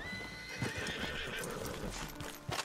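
Horse from the video game Red Dead Redemption 2 whinnying loudly over a steady clatter of hooves in the woodland, with brief louder hoof beats toward the end and no voices.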